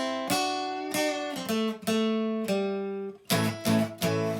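Electric guitar plays an octave-higher riff: ringing single notes, some bent up in pitch, ending with a quick run of sharper picked notes; no talking.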